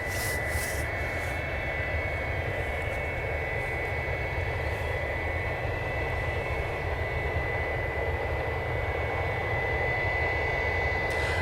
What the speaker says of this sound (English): CA Southwest is taxiing over for departure.